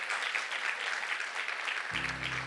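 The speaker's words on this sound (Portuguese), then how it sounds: "Dê um aplauso a esses irmãos." A church congregation claps for newly baptized members, a soft, even wash of applause that sounds somewhat distant, joined near the end by a low electrical hum.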